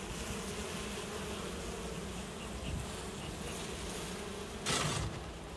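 Dense, continuous buzzing of many honey bees up close at an opened hive during an inspection, with a brief louder rustle or knock near the end.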